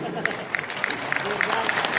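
Scattered clapping from an audience at a celebration event, a few sharp individual claps standing out over a steady murmur of voices and background chatter, moderately close and fairly faint.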